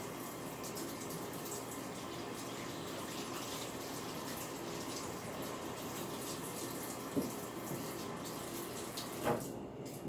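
Hands being washed under a running tap after handling sticky fruit while making breakfast, a steady broadband rush of water flowing for the whole stretch with a couple of small splashes or clinks near the end, no talking.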